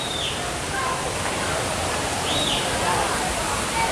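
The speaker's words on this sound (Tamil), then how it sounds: "கீழே தான் அருவி" Steady rushing water of the Hogenakkal waterfall on the Kaveri river fills the air, a constant dense roar with a few faint bird chirps above it.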